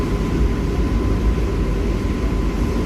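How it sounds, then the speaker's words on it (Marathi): Steady loud rumbling roar of a train departing from Bandra Terminus, heard from aboard a moving AC slow local train running alongside it, continuous and unbroken with no voices. "हे बघा अजून एक कुठली तरी ट्रेन निघाली आहे"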